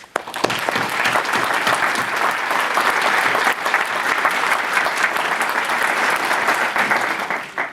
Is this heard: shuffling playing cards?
no